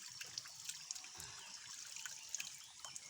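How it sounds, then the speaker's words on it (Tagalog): Milky-white stream water trickles and drips close by during washing, a quiet liquid patter with small splashes scattered through it and no talking. "Hugas tayo mga ka-idol. Yan, hugas tayo tubig."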